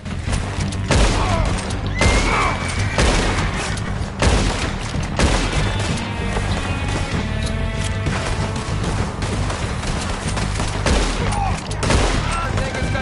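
Dense, rapid gunfire rattles almost nonstop through a Red Dead Redemption 2 shootout with attackers coming out of the trees, shots overlapping in loud, close bursts with heavy booms.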